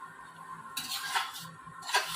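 A utensil stirs ghugni masala frying in a pan with a splash of water, giving a few soft metallic scrapes and clinks over a faint sizzle, fairly quiet and with no talking.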